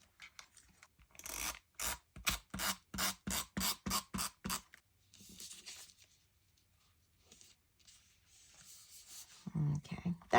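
Scissors snip through very thin paper for a scrapbook page in a rapid run of about ten crisp, evenly spaced cuts, close and clear, followed by softer rustling handling of the paper.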